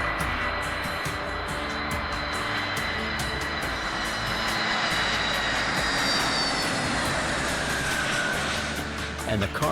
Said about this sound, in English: 5 miles before runway, we are exactly on glide slope, glide path with normal speed and safely landing.